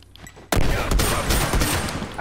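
Rapid bursts of video game gunfire in a first-person shooter match erupt suddenly after a brief quiet start, a loud dense fusillade of shots with sharp individual cracks and no talk over them.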